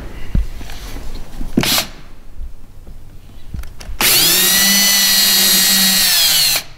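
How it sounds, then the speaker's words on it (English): A power drill bores holes in the hull of an Old Town Predator 13 PDL kayak, with a few knocks and clicks first, then a loud, steady, close whine for several seconds before stopping. "Make Jake nervous here drilling holes in his kayak."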